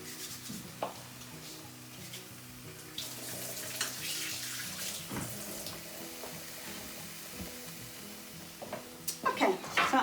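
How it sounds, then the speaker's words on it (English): Hands are washed under a running kitchen tap while making spicy chickpea burgers; a quiet, steady water stream with soft splashing and rubbing, growing a little busier at the end. "So just one moment while I wash my hands."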